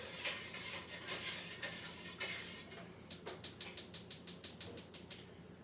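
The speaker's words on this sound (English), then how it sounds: "We're going to give that a quick stir." Pectin gets a quick stir into peach jelly in a pot, first as soft scraping and then as a run of about a dozen crisp, evenly spaced rhythmic clicks of the spoon, near and fairly quiet.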